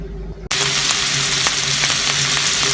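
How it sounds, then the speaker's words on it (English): A pot roast browning in hot oil inside an Instant Pot breaks into a loud, close, continuous sizzle after a brief quiet start, holding steady with faint crackles and no talk. "We're gonna go ahead and brown our pot roast and get into it."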